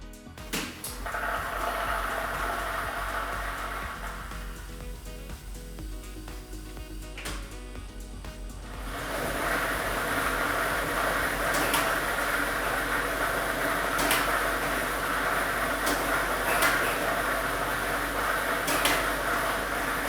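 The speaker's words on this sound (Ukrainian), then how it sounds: "І ми вмикаємо лототрон" A lottery ball drawing machine for the Ukrainian state Loto Maksyma draw runs with ball set number 1: a steady rolling, rattling roar of tumbling balls that starts fairly loud and grows fuller partway through, with no one talking.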